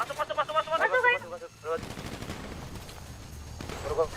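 Gunfire in a GTA V roleplay game during a police hostage standoff, a burst of rapid shots following talk, then a dense sustained clatter of firing that swells again near the end.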